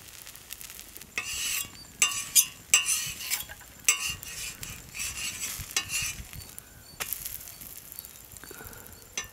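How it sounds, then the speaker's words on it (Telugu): Sponge dosa cooking on a hot pan with a few drops of oil added around the edges, giving soft sizzling broken by bursts of scraping and clinking utensils up close. "చుట్టూ ఒక రెండు చుక్కలు వేసుకుంటే చక్కగా మన స్పాంజీ దోశ కాలుతా ఉంటుంది అన్నమాట"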